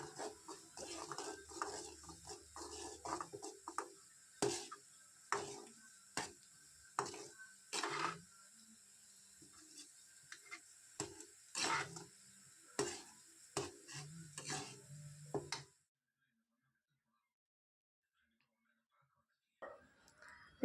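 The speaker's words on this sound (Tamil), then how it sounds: "இப்போ இது நல்லா மிக்ஸ் பண்ணி விட்டுடுறேன்" Spice powder stirred into a tamarind curry in a pot, with repeated scraping and clinking of a spoon against the vessel and soft speech in between, then near silence at the end.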